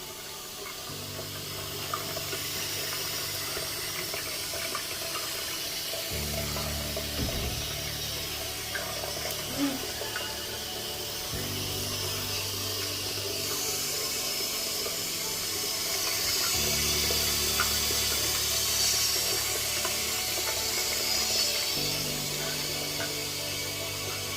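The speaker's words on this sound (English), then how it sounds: "There's the hot water." A WaterSong farmhouse faucet running hot water steadily, pouring with a continuous rushing hiss and a low hum underneath, fairly close.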